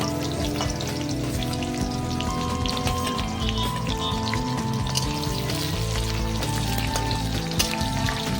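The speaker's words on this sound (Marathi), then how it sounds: "कांद्याला पण मी आता चांगलं परतून घेणार आहे गोल्डन ब्राऊन होईपर्यंत" Chopped onion fries in oil in a pan for chhole, giving a dense, continuous crackling sizzle that stays loud and close throughout, with no talk.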